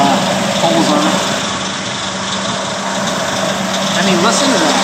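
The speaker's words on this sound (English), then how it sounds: "Aside from that little pulley that's making a little bit of noise, the engine just sounds so good." A 1949 Ford F-5 truck engine on a 6-volt system idles steadily and fairly close, with a small pulley adding a light squeal, while someone speaks over the even rumble.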